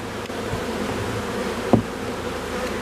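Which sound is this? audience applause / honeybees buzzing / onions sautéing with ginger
honeybees buzzing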